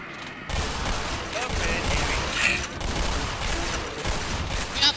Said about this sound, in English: Now a shotgun mayhem everywhere.